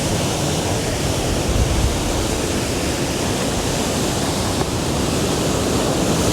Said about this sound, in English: Huge swells coming in right now.